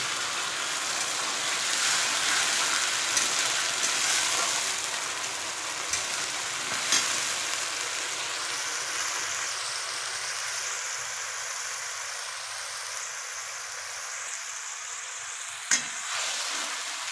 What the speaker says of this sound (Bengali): মশলাটা ভালো করে ভেজে নিই।